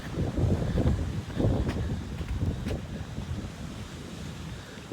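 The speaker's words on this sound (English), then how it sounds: "we're right on the beach here" Ocean waves breaking on a resort beach in Punta Cana, a continuous low rushing surf with gusty wind buffeting the microphone, steady and fairly loud without speech.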